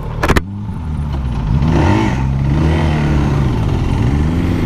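A Zontes R 350 trail motorcycle accelerates uphill on a group test ride at a launch event, a steady engine drone rising in pitch after a brief clatter, close and loud throughout.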